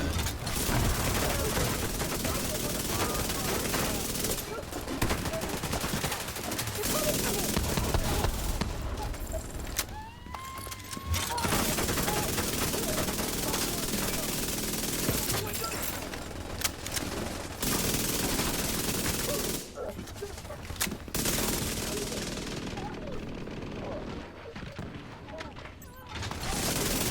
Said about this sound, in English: now I'm gonna do the rest with the Vector.